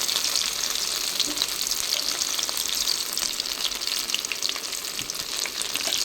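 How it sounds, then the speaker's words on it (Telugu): Chicken pieces sizzle in hot ghee in a home kitchen pot during biryani cooking, a steady, bright, crackling hiss that runs unbroken and close throughout. "ఇలా వేగుతున్న చికెన్ పైన మనం నెయ్యి వేసాం కదా"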